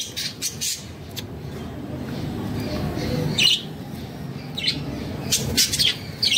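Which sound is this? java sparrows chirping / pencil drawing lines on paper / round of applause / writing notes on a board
java sparrows chirping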